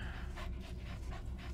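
D-Dog, the dog companion in Metal Gear Solid V, pants in quick, even, breathy puffs, close up, with a steady background bed and no speech.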